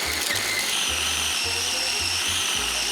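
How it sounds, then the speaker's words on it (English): A food processor whirs through frozen blueberries and dark chocolate, running in several loud bursts separated by short pauses, with a steady high-pitched motor whine over the chopping rumble. "open up a pack of frozen blueberries and pop into the food processor"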